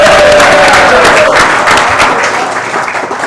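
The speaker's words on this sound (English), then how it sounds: "A round of applause." A studio audience applauds guests at a Baltimore Ravens football talk-show taping, loud, dense clapping that carries throughout and tapers slightly toward the end.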